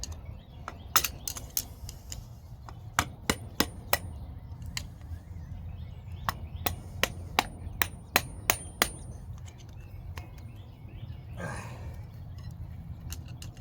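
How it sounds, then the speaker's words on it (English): A stuck socket is tapped loose with a hammer during a transmission removal, sharp metallic strikes in quick irregular bursts, close and clear over a low hum of the garage. "Releasing sockets. I gotta kind of tap it off there."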